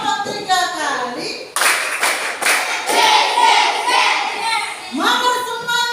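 Elementary fifth-grade class clapping together on a teacher's count in a morning classroom routine, bursts of hand claps alongside a teacher's spoken voice, fairly close and loud.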